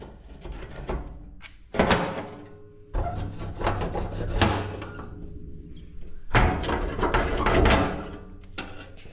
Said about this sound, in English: Let me open this door so that we can have more light